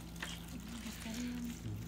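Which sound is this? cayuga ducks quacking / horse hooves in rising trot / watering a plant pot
watering a plant pot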